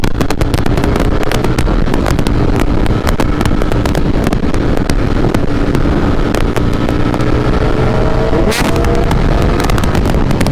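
Ducati V4 Streetfighter motorcycle ridden on a demo ride, its engine roaring loud and close throughout with rapid crackling pops and a brief throttle change near the end, buffeted by wind.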